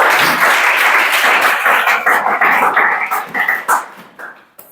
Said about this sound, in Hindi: ताली बजाओ कर लिए।